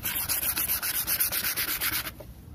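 Steady back-and-forth sanding of a plastic car headlight lens with fine sandpaper such as 1,000 grit, a close, even raspy scrubbing in regular strokes for about two seconds before stopping.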